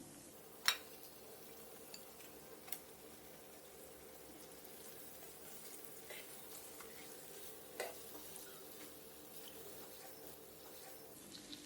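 Cut fish pieces fry in masala in a pan for a fish-head and moong dal dish. A quiet, steady sizzle runs throughout, with a few sharp clinks of a spoon stirring.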